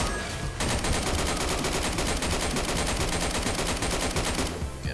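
Rapid automatic gunfire in a first-person shooter video game, a dense continuous burst of loud shots lasting several seconds after a brief quieter lead-in.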